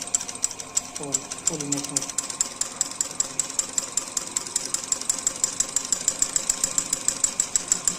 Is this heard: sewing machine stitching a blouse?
yes